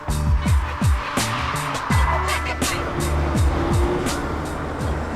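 A Porsche Boxster driving on the road, engine note rising and falling through repeated gear changes, loud and close with tyre and wind noise; no one speaks.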